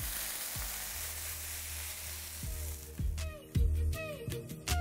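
Chicken sizzles in a frying pan with a steady crackle, joined in the second half by louder clatter and scraping bursts as it is stirred, with no voices.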